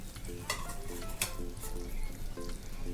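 Ripe bananas sizzle and fry in a pan for festive banana sheera, with steady crackling and several stirring scrapes close by; soft background music plays throughout.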